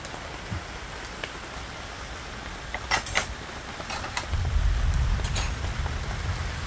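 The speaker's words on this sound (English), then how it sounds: "we're getting some rain" Steady rain patters throughout, with a few sharper drips and clinks, then a low rumbling swell builds toward the end.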